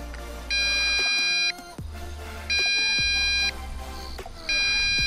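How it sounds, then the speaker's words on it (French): Beeping from an MJX Bugs 3 Pro GPS drone's remote controller: three evenly spaced high electronic tones, each about a second long, repeating in a steady pattern over low outdoor rumble and faint clicks. "j'ai un bip continu là."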